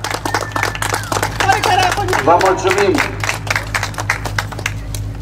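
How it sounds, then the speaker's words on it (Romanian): Audience clapping at a Romanian national speedway championship award ceremony, the prize-giving for the third round of the 85 cc individual class: steady, dense applause running throughout under an amplified announcer's voice. "Să aplaudăm încă o dată și să le mulțumim. Mai tare! Să aplaudăm mult mai tare!"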